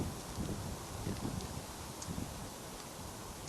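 Steady wind gusting around a tarp shelter during a snowstorm, a continuous broadband rush with faint rustling, fairly close and with no voices.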